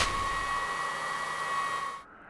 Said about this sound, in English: this horrible whining noise running all the time when using your preheating station